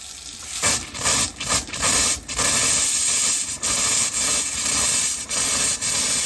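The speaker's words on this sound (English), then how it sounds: "We're gonna drain our sink." Water sprays and sputters from the sink faucet of a Dynamax Isata 5 36DS RV being drained during winterizing, a loud close hiss broken by air bursts and brief gaps.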